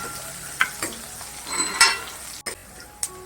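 Garlic and dried red chillies frying in oil for methi dal, a close, steady sizzle broken by several sharp clicks and scrapes of a spoon stirring the pan.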